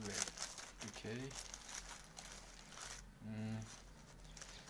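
Plastic parcel packaging crinkling and rustling up close in short bursts as scissors are used to open it, with someone speaking briefly between the sounds.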